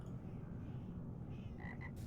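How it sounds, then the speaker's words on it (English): Copperback bullfrog croaking in Lord of the Rings Online: a few short croaks near the end over a steady rumbling game ambience, with no speech. "What were you called? A copperback bullfrog. Yeah, that's why you're so big, because you're a bullfrog."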